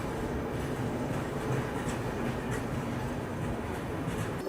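The Muzaffarpur-Valsad passenger train passes on the railway, making a steady low rumble and rolling noise at moderate distance with no clear breaks.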